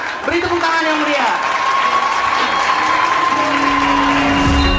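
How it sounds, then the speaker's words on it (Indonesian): A crowd at a school science-department exhibition applauds a student performance with sustained, dense clapping and cheering, while a voice talks and tonal music or whistling sounds ring over the top. "Beri tepuk tangan yang meriah."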